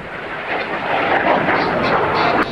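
Frecce Tricolore aerobatic jets pass during a flying display, a broad, loud roar swelling and holding steady for a couple of seconds at middle distance.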